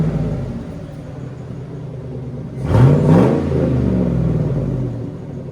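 A Hummer H2's 6.2-liter V8 idles with a low rumble, then blips once in a brief, loud rev that rises and falls before settling back to a steady idle, close by with no voices.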